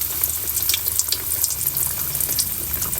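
Fish frying in hot oil, a dense, steady, hissing sizzle with faint crackles, close and continuous throughout.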